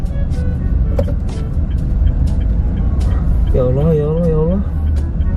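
Truck rumbling on a busy road amid other passing vehicles, a continuous low engine drone with talk over it.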